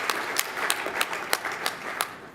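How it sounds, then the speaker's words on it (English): A room full of people applauds at the Australian Olympic Committee's annual general meeting, producing a steady, dense wash of clapping with sharper individual claps popping out now and then. "give a round of applause"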